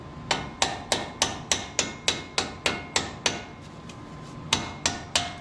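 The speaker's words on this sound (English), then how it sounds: "If I was smart, I wouldn't hit this with a hammer either" A hammer strikes a metal part during a truck suspension job in a steady series of sharp, ringing blows, about three per second, with a short pause before the last few hits.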